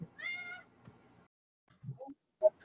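A cat gives a clear meow near the start, then a pause before a few shorter chirping mews at close range.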